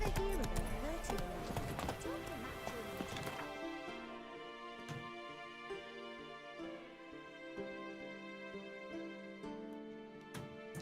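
Roach, the horse in the video game Witcher 3, gallops with a steady, rhythmic clip-clop of hooves amid game music and ambience, with someone talking over it.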